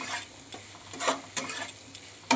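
Vegetables and paneer sizzle in butter in a pan while being stirred, with a steady frying hiss broken by several sharp scraping strokes of a spatula, close and fairly loud, with no talking.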